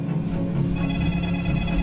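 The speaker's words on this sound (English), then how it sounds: "and the phone rings." A telephone bell rings loudly and steadily with a continuous trilling tone, close and alone, with no talk over it.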